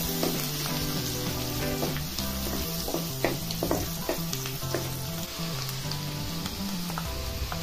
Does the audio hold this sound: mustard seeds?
yes